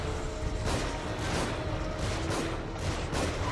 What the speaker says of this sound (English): Just keep on shooting at him until he lays some eggs.